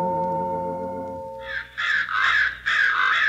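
Several crows caw loudly in a rapid, overlapping cluster of harsh calls after a quiet musical opening, the calls coming in bursts close together and near.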